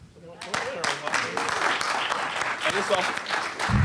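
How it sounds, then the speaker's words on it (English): A summit audience of local stakeholders breaks into applause, the clapping swelling quickly after a quiet start and holding as a dense, loud roar of many hands, with talk heard faintly alongside. "another round of applause"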